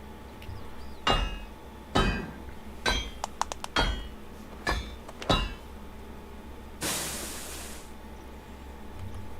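Hammering while crafting an iron hammer in Medieval Dynasty: a series of sharp metallic strikes, single and in quick clusters, followed by a hissing burst.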